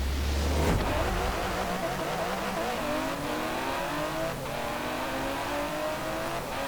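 A rear-wheel-drive race car with over 700 horsepower revs and shifts through gears in Forza Horizon 4, pitch climbing repeatedly with a loud, continuous roar.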